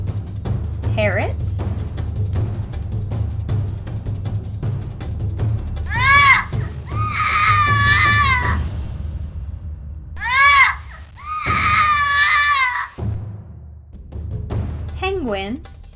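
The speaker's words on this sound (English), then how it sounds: "Parrot." Parrot squawking calls in several bursts, some drawn-out and warbling, loud and close over a low rumbling background hum.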